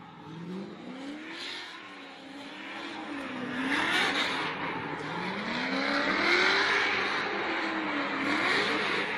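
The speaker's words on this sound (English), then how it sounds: "Christoph's warming up his tires" A BMW V8 drift car at a Formula Drift event at Irwindale warms its tires, its engine wailing and rising and falling in repeated revving sweeps with tire squeal, a loud and steady roar from a moderate distance.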